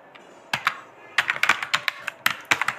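Quick keystrokes on a computer keyboard while entering an Excel formula, a close, crisp run of clicks in uneven bursts with short pauses, no talk.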